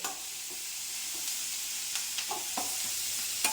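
Onions and pirandai (adamant creeper) sauté in a pan, giving a steady sizzle with scattered clicks and scrapes from stirring, close and continuous with no talk.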